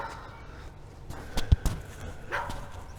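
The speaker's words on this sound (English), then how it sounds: "Damn dogs. Local dogs." In a video game, local dogs bark in a few sharp, close yelps clustered together, with a fainter bark shortly after over a low ambient background.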